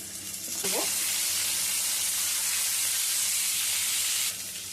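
Long beans dropped into a hot pan with oil, salt and turmeric for a vegetarian curry, setting off a loud, steady sizzle that holds for several seconds before easing off.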